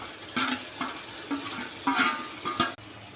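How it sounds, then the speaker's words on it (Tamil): A spatula stirs onions and tomato sautéing in a pan, giving a quiet rhythmic series of scrapes and clinks over a faint sizzle, close and without speech. "இதை நல்லா வதக்கி எடுத்துகிட்டு வந்துடலாம்"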